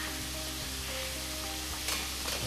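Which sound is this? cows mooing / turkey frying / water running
turkey frying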